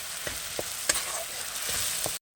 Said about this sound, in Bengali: আমি এবারে মশলাটা দিয়ে দেবো তো মশলাটা আমি একটু ভালো করে কষিয়ে নেব